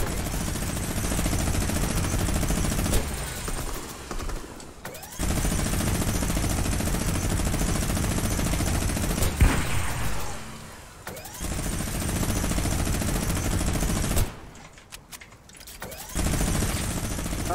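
Bursts of rapid video game gunfire repeat in several loud stretches separated by short pauses, with a mechanical rumble underneath.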